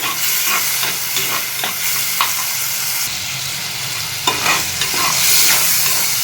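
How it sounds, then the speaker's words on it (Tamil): Vadagam and tomato sautéing in oil in a new clay pot, a loud continuous sizzle with scattered scrapes and taps of a spoon stirring, the frying hiss swelling a little toward the end. "இதையும் சேர்த்து நல்லா வதக்கிக்கோங்க"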